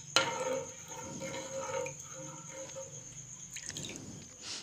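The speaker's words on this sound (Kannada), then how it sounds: "ಇವಾಗ ಒಂದು ಪ್ಯಾನ್ಗೆ ಅರ್ಧ ಲೀಟರ್ ಹಾಲನ್ನು ಸೇರಿಸ್ತಾ ಇದ್ದೀನಿ" Half a litre of milk pours into a pan for fruit custard, a soft, close liquid splash and trickle that runs for a few seconds at low volume without speech.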